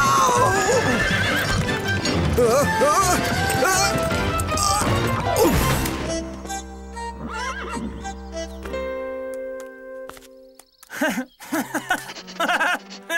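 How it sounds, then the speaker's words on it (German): A horse neighs loudly and its hooves clip-clop against a street in a town, with crashing thuds partway through, followed by quieter scattered sounds and laughter. "Pferdchen!"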